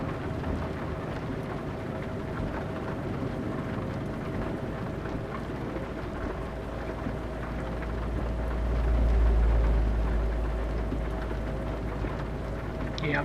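Rain falls in Euro Truck Simulator 2 during a night drive, a steady hiss of pattering drops over a constant low truck-engine rumble, swelling briefly into a deeper rumble near the end.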